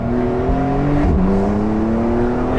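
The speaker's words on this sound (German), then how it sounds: "das PDK, das schaltet so krass, dass ich es im Sitz spüre" A Porsche 911 Carrera GTS of the 991.2 generation accelerates hard with its PDK gearbox. Rising engine tones snap down at a quick gear change and then climb again, loud and close throughout.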